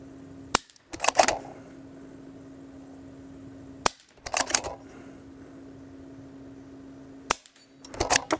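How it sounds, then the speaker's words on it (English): Suppressed rifle shots from a Q Mini Fix and a Ruger American at the range, with three muffled cracks spaced a few seconds apart, each one followed by a short mechanical rattle, over a steady hum. "So we'll do 3 shots of discrete ballistics with Q1, and I'll do my best to get a good group"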